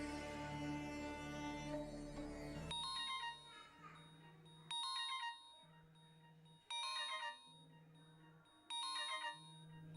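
A telephone rings with an incoming call from a son: a repeating electronic ringtone in evenly spaced bursts, following a busier, louder stretch of sound at the start.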